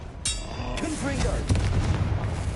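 A Confringo spell explodes in the Hogwarts Legacy video game, a sharp close blast with booming rumble and crackle, followed by a voice speaking over the fading aftermath.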